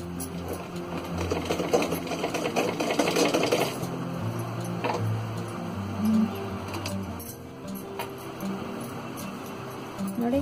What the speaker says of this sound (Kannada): ಇಲ್ಲಿಗೆ ಮೇಲ್ ಹೊಲಿಗೆ ಹಾಕ್ಬೇಕು.